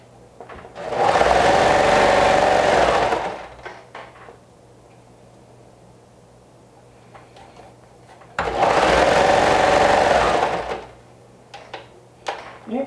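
A sewing machine stitches in two bursts of about three seconds each while a garment is sewn, a loud whirring run separated by a quiet stretch with small handling noises.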